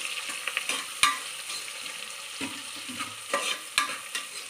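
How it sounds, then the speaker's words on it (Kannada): Sliced onions fry in oil with spices in a pan for kushka, a steady sizzle broken by sharp scraping stirs of a spoon against the pan, close and fairly loud with no voices. "ಈರುಳ್ಳಿ ಚೆನ್ನಾಗಿ ಬ್ರೌನಿಶ್ ಆಗಿ ಫ್ರೈ ಆಗಬೇಕು"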